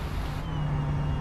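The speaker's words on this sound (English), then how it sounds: "Flaps going up." Fokker airliner flaps retracting in Microsoft Flight Simulator 2024, a steady low mechanical hum and whine over constant engine drone, loud and continuous with no talk.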